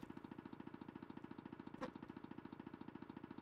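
Snowmobile engine in the 1997 PlayStation game Tomb Raider II, a faint, steady rapid idling throb pulsing evenly for several seconds, with one brief click in the middle.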